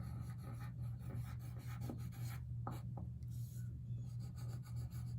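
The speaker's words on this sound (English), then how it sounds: "I'll write" A marker or chalk scrapes across a classroom board in continuous rasping strokes, close and fairly quiet over a steady low hum.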